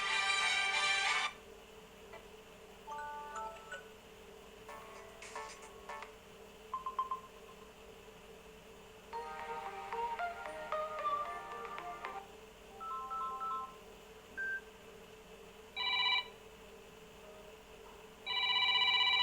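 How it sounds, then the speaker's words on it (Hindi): Alarm ringtones on a Samsung Galaxy M01 phone, short electronic melodic tones and beeps previewed in separate bursts with gaps between them, clear and close with no talking. "यहाँ पे रिंगटोन पे क्लिक करके आपका जो भी रिंगटोन है वो आप चेंज कर सकते हैं।"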